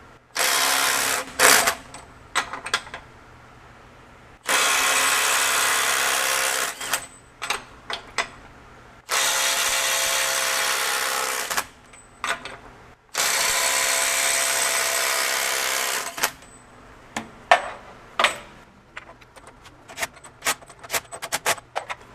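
A Milwaukee M12 FUEL Gen 3 impact driver running in reverse on a 2.0 battery fires off in loud, close bursts of rapid hammering lasting a few seconds each, separated by short clicks and handling noises.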